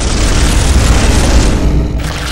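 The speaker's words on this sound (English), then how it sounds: "Weapon malfunction. And he jammed again." Weapon jam in the Space Hulk video game, heard as a loud, heavy rumbling boom that fills the whole moment and stays steady before thinning slightly at the end.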